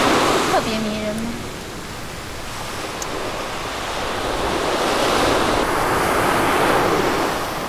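Sea waves break along a beach at night in a continuous, fairly loud rushing surf that swells toward the end, with a brief faint voice-like sound near the start.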